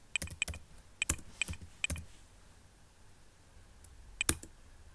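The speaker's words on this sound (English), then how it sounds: "Over here I'm just typing ipconfig" The command ipconfig is typed on a computer keyboard during Windows Server setup, producing crisp, close key clicks in quick bursts early on. After a quiet gap, a final pair of keystrokes follows.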